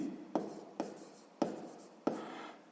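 Pen writing on paper during a sixth-grade maths exercise: four distinct scratchy strokes, each starting with a sharp onset and trailing off, close and quiet.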